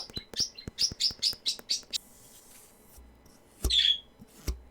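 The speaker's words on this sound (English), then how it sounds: "I'm sorry about the birds." Close, sharp bird chirps in a quick run of about ten, then a pause, a few more scattered chirps and a low thump.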